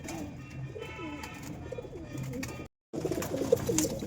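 Several pigeons cooing softly in low, rolling calls while drinking water, overlapping one another amid faint background chatter and rustling, with a short silent gap.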